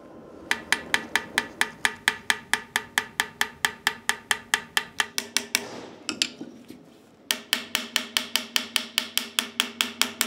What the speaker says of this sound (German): Das Metall wird mit verschiedenen Spezialhämmern stundenlang bearbeitet.